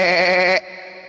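A voice imitates a goat's bleat with a loud, wavering nasal 'mbe' lasting about half a second, then drops to a quieter lingering tone.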